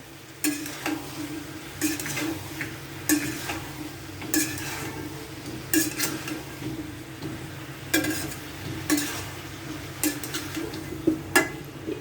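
Eggplant is stirred into potatoes in a cooking pot, with a steady sizzle underneath and a scrape of the spoon against the pot every second or two, close and moderately loud, with no talking.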